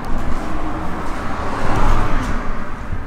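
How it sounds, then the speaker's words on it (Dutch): A car drives past outside an abandoned building with open windows, a moderate whooshing road noise that swells toward the middle and then eases, with no talking. "ik hoor die auto zo goed. Die non stopt voorbij rijden."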